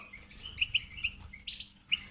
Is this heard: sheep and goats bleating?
no